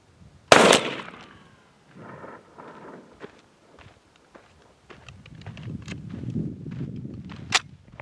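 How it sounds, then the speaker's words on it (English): A single loud blast from a 12 gauge shotgun with a full choke, firing 2 3/4 inch number 4 buckshot shells, cracks out sharply early on. Quieter handling noises, shuffling steps and faint rustling follow. "Shooting at a distance of 40 yards with a 12 gauge shotgun using a full choke 2 3/4 shell, shooting number 4 buck."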